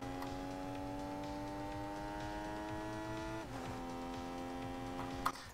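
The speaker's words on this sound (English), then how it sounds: "So I'm going to let you listen to the engine sound," Mudcat car engine in Rocket League, a video game, giving a steady synthetic hum with a clear harmonic drone that holds evenly, dips briefly in pitch partway through, then carries on; no talking.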